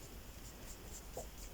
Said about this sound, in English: I'm going to just put a very faint pencil line